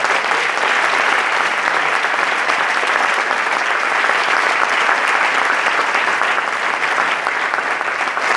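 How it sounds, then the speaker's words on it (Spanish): Sustained applause from an audience at an anniversary event at La Pedrera, steady and dense throughout with no speech over it. "Un aplauso para ellos."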